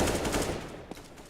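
Bursts of AK rifle fire come from a tactical shooter game during an esports qualifier semifinal, a quick string of sharp shots at moderate level that thins out near the end.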